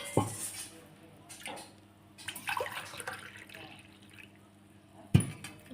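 Water poured glass by glass into a cooking pot for homemade pindi vadiyalu, heard as quiet splashes and drips with a couple of sharper bursts, close by and fairly faint.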